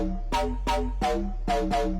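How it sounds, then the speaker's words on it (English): Punchy EDM-style synth stabs in a Brazilian phonk track, five bright chord hits in an uneven rhythm over a steady low bass, loud and alone. "these Brazil songs use these almost EDM-like stabs"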